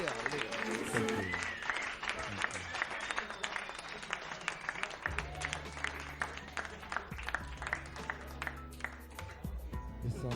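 Applause and cheering for a singer from a concert audience rise loudly at first, then a steady musical tone and a crowd under it take over, with a voice briefly in the mix.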